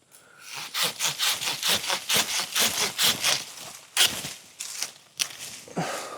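A Silky Zubat hand saw cuts through oak limbs in a steady run of loud, rhythmic push-pull strokes, about a dozen in a row, then a few separate strokes as the cut finishes, with no talking.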